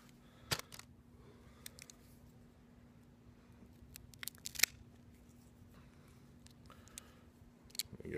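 A cutter snipping the cap off a cigar: a couple of sharp, isolated clicks over a faint, steady room hum with soft rustling between them.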